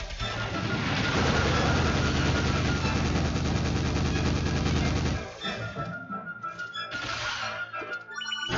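Shooting in the Kid Icarus Uprising video game sounds as a dense, loud, rapid stream of electronic shots for about five seconds, then gives way to sparser bursts and game effects.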